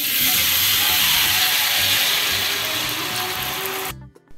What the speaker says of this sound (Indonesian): Lanjut goreng.